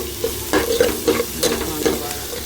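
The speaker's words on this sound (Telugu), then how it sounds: "కరివేపాకు తర్వాత ఆనియన్ ఫ్రై అవుతుంది" Onions frying in hot oil with curry leaves for a mutton curry, stirred in the pan: a low steady sizzle broken by a series of scraping spoon strokes, close and fairly loud.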